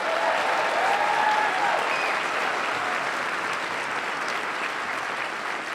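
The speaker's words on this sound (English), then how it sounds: "Let's give him a round of applause." Audience applause at the inauguration of George Latimer as Westchester County executive: a dense, steady ovation of many hands that holds for several seconds and eases off only slightly toward the end.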